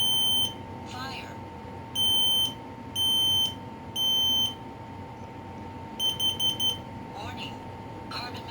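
A Kidde P4010DCSCO-W intelligent smoke and carbon monoxide alarm sounds during a test: loud, shrill three-beep bursts repeat at steady intervals, then a faster run of short beeps, with a person's voice heard faintly in between.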